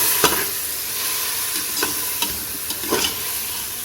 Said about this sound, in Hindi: अब हम इसमें टमाटर और सब्ज़ मिर्ची ऐड करेंगे, अच्छी तरह से मिक्स करेंगे